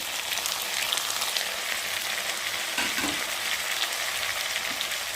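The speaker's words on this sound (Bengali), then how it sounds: "এই থালার মধ্যে আছে লঙ্কা, পেঁয়াজ, আদা, রসুন সব বেটে নিয়েছি, আর এখন আমি সব ঢেলে দিচ্ছি।" Ground paste of chili, onion, ginger and garlic hitting hot oil in a frying pan, giving a steady close hiss and sizzle with a brief splutter and thud partway through, no voices.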